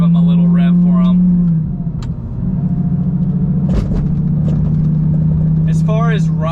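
A Lamborghini Gallardo engine rumbles loudly up close with a deep steady drone that dips and swells as it revs, with someone talking over it.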